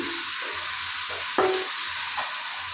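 Egg chicken fried rice frying in a pan, with a steady loud sizzle, brief stirring scrapes and a sharp clink partway through.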